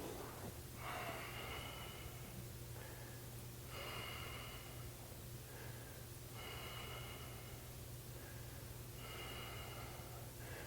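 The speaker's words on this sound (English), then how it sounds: "Keep breathing deeply." Slow, deep breaths during a power yoga session, several rhythmic inhales and exhales close to the microphone, each lasting about a second, over a constant low electrical hum.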